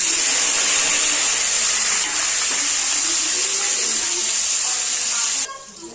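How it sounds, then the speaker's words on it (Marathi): Green chilies hit hot oil already holding cumin and mustard seeds, a loud, steady hiss of frying that runs for several seconds before suddenly dropping off near the end. "आता मी त्यात तेलामध्ये मिरची टाकते।"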